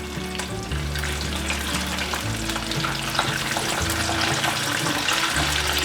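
Pieces of food deep-frying in hot oil give a dense, continuous sizzle and crackle, steady and fairly close, with no voices.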